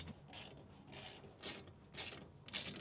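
Van roof rack hardware on an AVC Roof Rack 2.0 is tightened with a ratcheting tool, giving quiet, repeated clicking bursts in a steady rhythm, close by with no talk.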